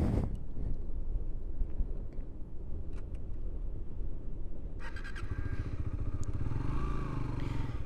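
A Suzuki GSX-S motorcycle fitted with aftermarket ABS is ridden on the road, its engine droning steadily under heavy wind buffeting, with a rising engine note near the end.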